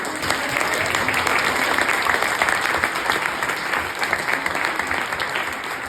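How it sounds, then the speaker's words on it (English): An audience applauds steadily, a dense wash of clapping that holds for several seconds at full strength. "let's give them a good round of applause, right?"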